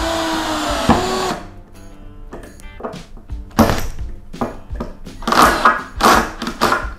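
Crown 12V cordless screwdriver with its clutch set low, driving a screw in an opening burst of loud motor whine that stops abruptly, followed by scattered thumps, clicks and handling noises.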